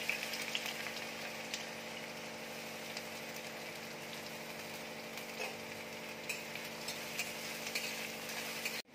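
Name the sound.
onion frying in hot oil in a wok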